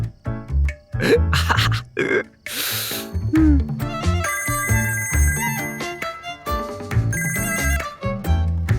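A phone rings in a Tamil drama scene, bright repeating tones cutting in and out amid music and short sounds, fairly loud and close.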